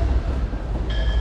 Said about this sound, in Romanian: Ăsta e trenul cu care am ajuns în Chișinău.